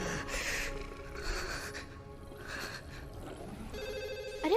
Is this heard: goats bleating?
no